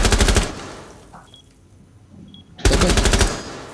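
Rapid automatic gunfire in a Rainbow Six Siege ranked match, two loud bursts of rattling shots separated by a quiet pause with faint in-game sounds.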